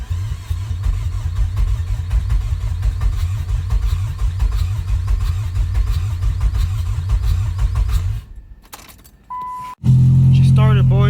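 A Nissan Sentra SE-R Spec V with a new motor rumbles low and steady for about eight seconds, cuts out into near silence, then comes back louder and heavier as the engine catches and runs.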